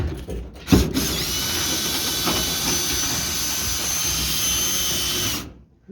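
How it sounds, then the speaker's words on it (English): A power tool undoing the fuel tank strap bolts on a Ford Falcon/Ranchero: a sharp thump, then a sustained loud whirring drill-like whine close by for several seconds before it cuts off. "we're going to undo these strap bolts"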